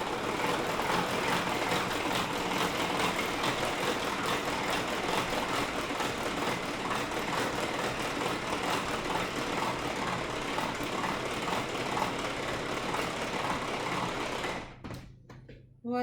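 A Speedy electric hand whisk whips pear cake batter at speed 1, a loud, steady close motor whir that runs continuously and then cuts off near the end.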